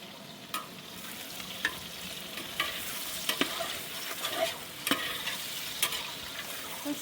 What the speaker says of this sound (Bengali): আমি একটু নেড়ে দিই